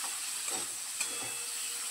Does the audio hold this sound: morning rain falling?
no